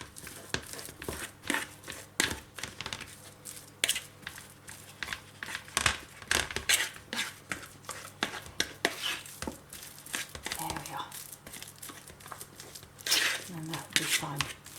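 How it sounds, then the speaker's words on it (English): Overripe bananas being mashed in a bowl: soft, repeated squelching presses and utensil clicks in an irregular rhythm, close and fairly quiet, with faint background noise. "I'm going to mash those down a little bit."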